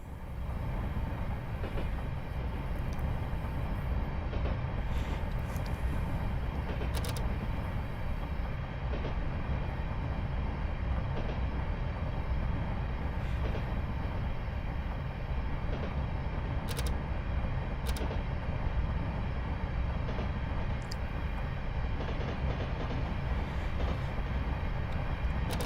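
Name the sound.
AI train passing at full speed in Train Simulator video game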